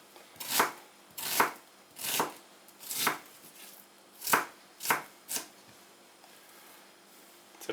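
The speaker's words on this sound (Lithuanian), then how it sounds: "Dabar dar susipjaustom svogūnus padažui. Pjaustau smulkiai." Onions being finely chopped for a sauce on a cutting board, with a series of about eight distinct knife strokes in a slow, uneven rhythm, each a close, crisp chop, set apart by short pauses of quiet, with no talking.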